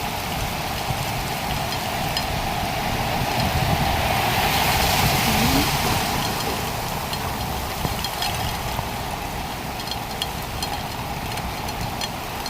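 Heavy rain pours steadily in Jeddah with car engines passing and idling nearby, a dense continuous hiss of downpour over a low rumble of traffic throughout.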